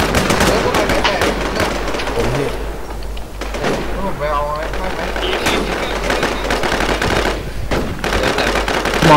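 Rapid automatic gunfire in the online shooter Infestation, loud and close with dense overlapping bursts and bangs throughout, while people talk and shout over the shooting.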